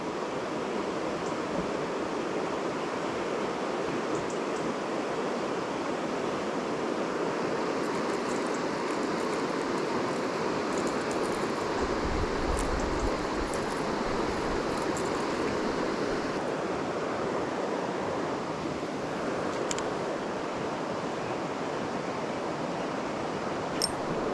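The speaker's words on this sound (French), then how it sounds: "Une belle arrivée d'eau." A steady inflow of water pours into a small pond, a broad, continuous rushing wash heard close and loud for the whole stretch, with a few faint clicks and no talk.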